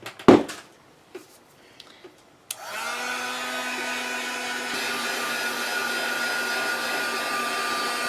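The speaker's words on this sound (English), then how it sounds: "let me get my heat gun out" Heat gun switched on after a few handling knocks, then blowing hot air in a steady, even whoosh with a whining motor tone while a Dollar Tree Mod Podge sign craft is heated.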